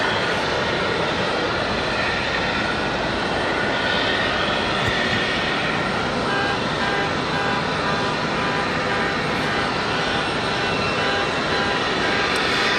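A Boeing Dreamliner jet at Raleigh-Durham International Airport gives a loud, broad, steady engine roar that holds evenly throughout.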